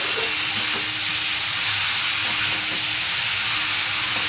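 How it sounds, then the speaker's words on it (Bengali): Banana stem sizzles loudly in a hot pan in a Bengali village-style kitchen, a dense continuous frying hiss with faint scraping stirs and small pops throughout, no talking. "একটু ভালো করে নাড়িয়ে চাড়িয়ে দেবো"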